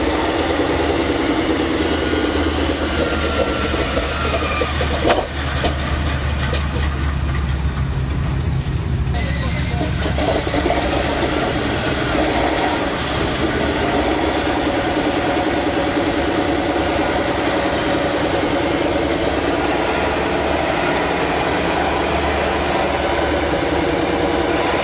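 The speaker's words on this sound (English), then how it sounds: "It is equipped with 9-cylinder air-cooled radial aircraft engines built by the Wright Aeronautical." An M18 Hellcat tank destroyer's Wright 9-cylinder air-cooled radial engine idles with a loud, steady low rumble that runs unbroken for the full length, with a brief change in texture early on.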